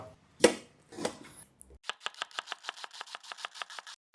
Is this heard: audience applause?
no